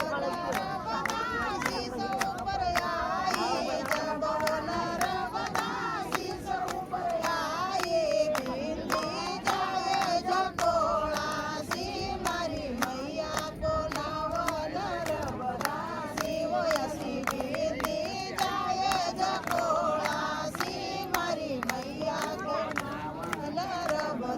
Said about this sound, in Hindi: बाकी सब बस वाले ही, इसी कारण इतना भीड़ है।